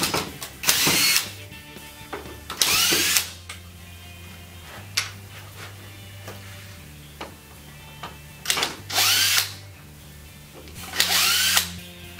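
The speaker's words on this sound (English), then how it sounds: "use the power drill to remove all of the screws that hold the fabric to the header" A power drill with a Phillips bit backs screws out of a Bestop soft-top windshield header, giving several separate short whirring bursts spaced a couple of seconds apart, with quiet handling noise between them.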